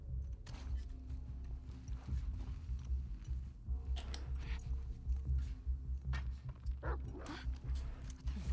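A dog barking and yipping in The Last of Us Part II, several short barks scattered over a busy, rumbling game soundscape of movement and combat noise.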